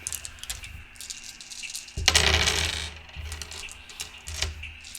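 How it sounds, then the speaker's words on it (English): Colored dice tumble and clatter in one loud rolling burst near the middle, surrounded by faint scattered clicks of handling before and after. "So this is how many times I've had to reroll the colored dice."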